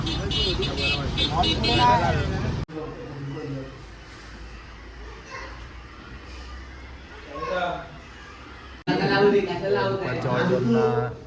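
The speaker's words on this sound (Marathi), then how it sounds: "गाड्या चालू आहे" Vehicles pass on a road during a walking pilgrimage with a palanquin, a low rumbling engine and traffic drone that swells and fades between stretches of nearby people talking.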